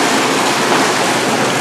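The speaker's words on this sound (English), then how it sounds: "Obviously this turns on the air bath." Woodbridge B-0034 / BTS1611 freestanding whirlpool air tub running with its air jets on, a loud, dense, steady rushing hiss of bubbling air and water, close and constant.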